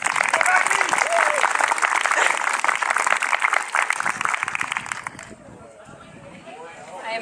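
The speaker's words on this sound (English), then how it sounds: "So round of applause for Becky Clark." An audience at a volunteer awards event applauds volunteer Becky Clark, loud sustained clapping for about five seconds that then drops away to quieter room noise.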